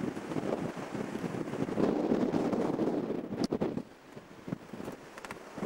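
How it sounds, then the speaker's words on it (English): Wind blows hard into the microphone on a beach along the Bay of Fundy, a steady, loud rumbling roar that swells and eases throughout with no talking. "I certainly don't know how this video is going to, or the audio will come out with all this wind."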